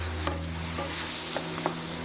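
Meat browning in an oiled nonstick frying pan, giving a steady low sizzle with a few light scrapes and clicks of stirring, close and alone.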